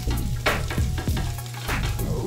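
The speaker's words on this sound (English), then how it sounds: "The brown rice is ready. It's frying up good." Brown rice and onions frying in a pan, with a steady close sizzle and repeated scraping stir strokes throughout.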